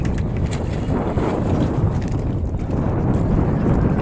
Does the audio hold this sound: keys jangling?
no